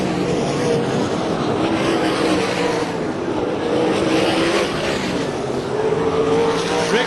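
USAC/CRA sprint cars racing at Phoenix, a dense, continuous engine roar from several cars at full throttle holding steady for the whole stretch, loud and unbroken, with no break between passes.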